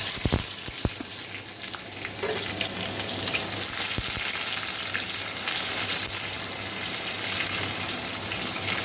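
Onion hits hot oil for dal with a loud, dense crackling sizzle, and a few sharp clicks of utensil on pan come early before the frying settles into a steady close hiss.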